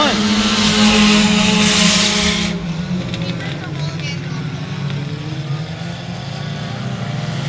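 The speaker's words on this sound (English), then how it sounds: "Got a Neon versus a Mitsubishi Eclipse. Battling it out." A Neon and a Mitsubishi Eclipse race on a speedway track, with engines loud and droning at first, then fading to a lower, more distant roar under an announcer's running commentary.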